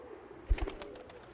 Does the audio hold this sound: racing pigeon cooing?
yes